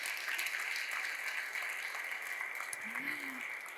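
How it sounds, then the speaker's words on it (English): An audience applauds steadily at a graduation ceremony, a faint, even patter of clapping heard from a distance with a voice briefly over it. "I think all those involved really deserve a round of applause"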